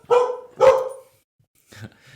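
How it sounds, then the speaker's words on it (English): Two household dogs, a border collie and a Havanese, bark twice in quick succession close by, loud and sharp, followed by a softer yip or whimper after a short pause. "hear the dogs barking"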